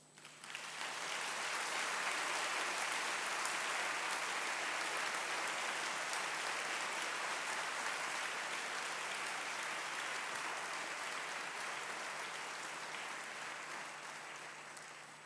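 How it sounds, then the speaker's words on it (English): A convocation audience applauds graduates, the dense, even roar of a large crowd clapping swelling quickly and holding strong for around fifteen seconds before easing off slightly at the end. "Please give them one last applause for the evening and make it count."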